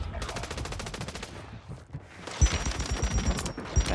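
Rapid video game gunfire in a ranked online shooter match: a steady automatic burst fills the first second and a half, then after a short lull heavier, closer shots crack out irregularly, with a player faintly talking underneath.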